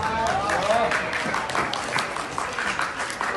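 School audience at Saint Mary's High School in Peshawar applauding the winner of an Urdu speech competition, a ninth-grade student: continuous crowd clapping throughout, with a faint voice briefly audible beneath it early on.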